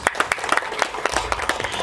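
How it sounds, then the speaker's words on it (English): An audience at a master class on art direction gives a short burst of applause, with sharp individual claps standing out against a steady patter of hands from a moderately sized crowd nearby. "Let's have a big round of applause."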